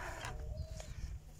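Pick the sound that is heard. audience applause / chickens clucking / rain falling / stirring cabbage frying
chickens clucking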